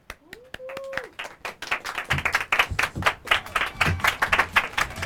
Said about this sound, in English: I'm going to give you a round of applause for CSLB soccer star John Flynn.